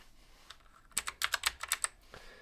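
Rapid bursts of keystrokes on a loud mechanical computer keyboard, a quick run of sharp clacks near the mic after a short quiet lead-in, with no talking.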